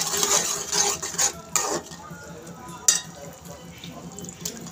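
Dal with bottle gourd cooking in a pot on a stove, with clinking of a spoon or utensil against the pot and a soft sizzle, scattered knocks over a low steady background.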